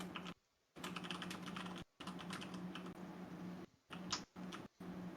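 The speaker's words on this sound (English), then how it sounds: "There's some frantic typing going on." Fast, frantic typing on a computer keyboard, a steady stream of quick clicks in bursts separated by brief pauses, quiet and close with no voices.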